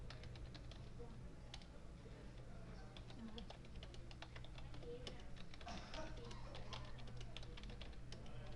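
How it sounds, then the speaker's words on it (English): Typing on a computer keyboard at a Linux console, rapid irregular key clicks throughout, faint and close, with no talking. "we have to write it with the help of keyboard"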